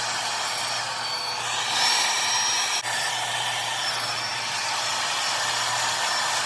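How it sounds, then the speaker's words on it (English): A hair dryer blows with a continuous whirring hiss, steady and close, with a slight rise in pitch partway through. "I'll plug my hair dryer in down here."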